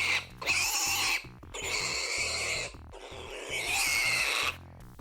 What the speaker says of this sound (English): The PIGCOP's death cry seems to be a snippet from a much longer source clip of baby pigs.